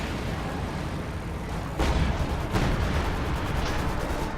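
Heavy tank gun of an ISU self-propelled gun firing in a multiplayer war game match, two loud booming shots with rumbling decay over continuous battlefield noise.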